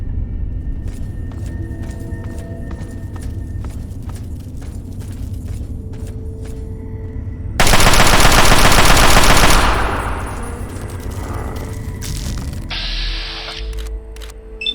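Automatic gunfire in Fallout 3, a sewer area: a dense burst of rapid shots erupts about halfway through and lasts a couple of seconds, loud over game ambience, mechanical clicks and scattered impacts, then tapers into quieter effects.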